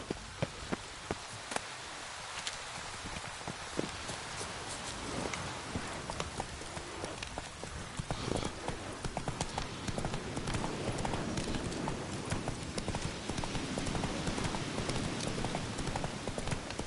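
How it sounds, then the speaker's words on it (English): Hooves clip-clop steadily as a horse is ridden in The Witcher 3 video game, a continuous rhythmic trot over a rainy ambient backdrop at moderate loudness. "Giddy up."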